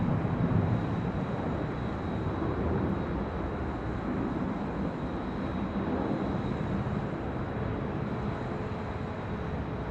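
A United Airlines Boeing 757-200 airliner at LAX gives a steady, broad engine roar heard from a distance, constant in level throughout with no voices.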